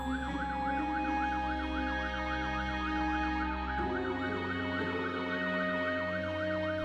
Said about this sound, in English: The sound of sirens cut through the confusion.